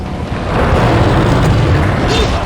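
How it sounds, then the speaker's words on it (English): A rocket launcher blast in Resident Evil 4 rolls out as a loud, sustained low boom that thickens after a brief onset and keeps rumbling to the end, with a faint voice underneath. "Let's use the shitty rocket launcher first."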